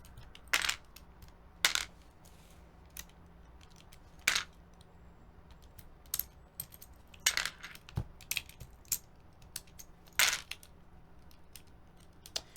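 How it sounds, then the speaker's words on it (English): Plastic keycaps are pulled off a PCB-mounted mechanical keyboard with a keycap puller. Each one gives a sharp, close click or snap, irregularly spaced and sometimes in quick pairs, over a quiet background with no talking. "some of these tops are kind of getting pulled off a little as I pull off the keycaps"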